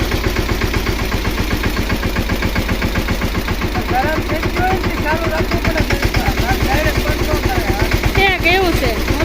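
A tractor engine idles to warm up, a loud close pulsing putter with an even rapid rhythm, while people talk over it.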